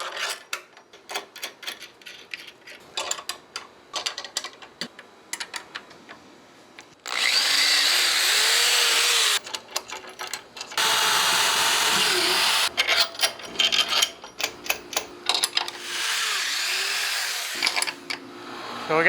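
A power drill whines in long, loud bursts as it bores through a wooden door frame, separated by brief pauses and clattering handling noises.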